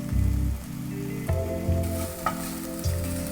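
Water poured into a pan of cooking onions with ginger garlic paste sets off a loud hissing sizzle, followed by steady frying with several stirring scrapes, close by, with no one talking.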